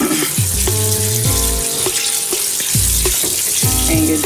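Tap water runs steadily into a sink while a makeup brush is rinsed under it, with splashing and brief knocks and clatters of handling at close range, no speech.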